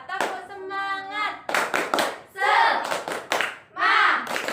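A third-grade class does a rhythmic 'tepuk semangat' clapping chant, sharp bursts of group claps alternating with children shouting in unison, close and lively.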